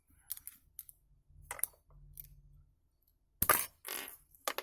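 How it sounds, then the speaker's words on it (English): Scissors snip through a multimeter probe wire in a quiet room: several sharp, close cutting clicks spaced irregularly, then a louder burst of handling noise. "Scissors. Yeah, that's the cutting thing. Cut this."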